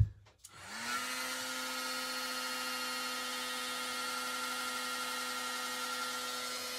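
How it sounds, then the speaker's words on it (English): Heat embossing gun blowing over a card in a craft setup: after a brief click it starts up and holds a steady, close whirring hiss with a faint tonal whine for several seconds, with no talk. "Now I have my heat tool"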